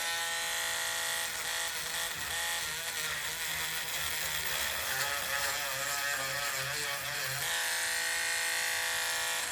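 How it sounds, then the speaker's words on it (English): A Dremel rotary tool grinds down a metal part of a 1-inch scale ATSF GP60M locomotive fuel tank, a steady high whine that wavers in pitch as the tool bears on the metal, close and continuous. "we use the Dremel to kind of knock that down a little bit"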